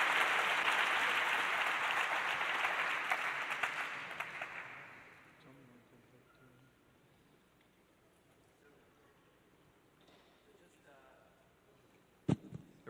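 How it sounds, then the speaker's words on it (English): Audience applause at a Somali pitch competition in Minneapolis, loud dense clapping for about five seconds that fades out, followed by a quiet room and a brief knock near the end. "Give a round of applause."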